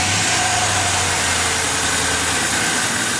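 A 2001–2004 Ford Mustang GT idles just after start-up, a steady close engine drone with a low rumble and even vibration, no voices.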